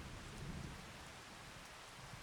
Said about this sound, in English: I know the rain's probably doing that job for us